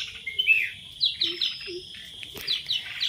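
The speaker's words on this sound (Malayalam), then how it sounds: "ഒരു കിളി അവിടെ വന്ന് ഇരുന്നിട്ടുണ്ട്. ഒരു തൊപ്പിക്കിളിയാണ്." A red-whiskered bulbul chirps in quick repeated bright notes near the listener, with short pauses and faint background noise.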